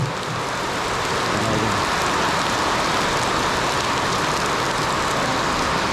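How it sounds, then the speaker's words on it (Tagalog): Heavy rain pours down in a dense, steady hiss with no pauses, and no voices are heard. "Ayan, basa na tayo sa ulan mga kaigan. Siyempre doon, tumatakbo. Dahil sa lakas ng ulan."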